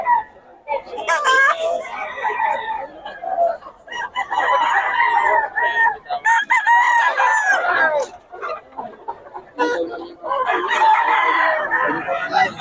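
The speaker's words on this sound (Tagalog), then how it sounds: "Puro solid mga manok ni Boss Gaga mga idol." Roosters crow repeatedly at a poultry market in Bocaue, loud and close, with overlapping calls and clucks. Someone talks over them at times.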